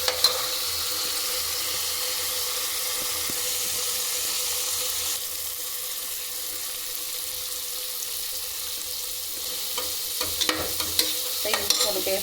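Ginger garlic paste sizzles and fries with onion and tomato in a pan for a mutton curry, a steady hiss broken by scraping stir strokes near the end.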